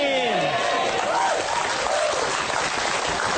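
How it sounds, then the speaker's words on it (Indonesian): Audience applause during a religious talk, a loud, dense clapping from a crowd filling the whole moment, with voices briefly calling out over it at the start. "Nah, tepuk tangan."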